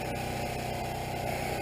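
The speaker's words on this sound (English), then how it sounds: "Sorry about the generator noise." A steady, droning generator engine hum runs throughout at constant loudness, with no talking over it.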